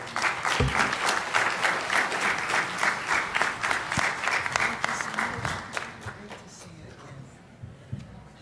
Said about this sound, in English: How about another round of applause for our High Commissioner Asil?